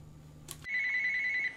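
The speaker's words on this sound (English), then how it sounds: "It's a damn phone!" A phone ringing in the PC video game Ski Racing 2006, a steady electronic ring that starts abruptly after a short burst of noise and holds at even loudness to the end, with no talk over it.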